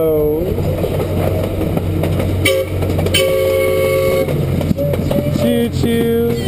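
An amusement ride train rumbles along with a loud, continuous clatter, and several bright horn toots sound through the middle and end; a voice calls out briefly.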